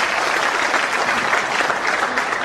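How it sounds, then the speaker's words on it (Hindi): Steady, dense applause from the audience at a Hindi poetry recital, continuous and even throughout, with no voices standing out. "एक बार तालियां बजाकर आप मेरे को आकर्षित करें।"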